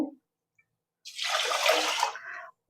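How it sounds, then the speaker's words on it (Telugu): Rice being rinsed in water gives a short, soft swish and trickle of water, faint and close, lasting just over a second. "ఇప్పుడు మనము రైస్ను వాష్ చేసేసుకుందామండి"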